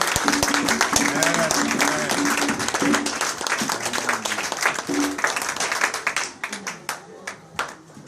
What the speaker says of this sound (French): Est-ce qu'on peut acclamer très fort, très fort le Seigneur?